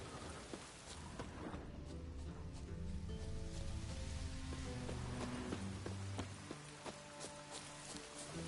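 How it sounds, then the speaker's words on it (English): Steady rain falls in The Witcher 3 video game, a dense continuous patter with scattered sharper drips and faint low rumbles beneath, moderately loud and unbroken throughout with no talk. "Looks like rain."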